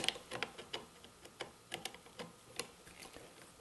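Phillips screwdriver loosening a screw on a Jiffy two-cycle engine, a faint run of small irregular clicks and ticks as the tool turns and catches, close by with no talk.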